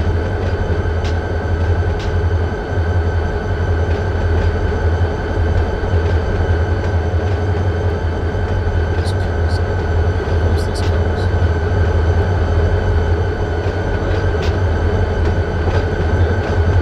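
A freight train in the Run8 V2 train simulator rumbles with a steady, loud, low drone for the whole stretch, with faint metallic clicks and squeals scattered above it.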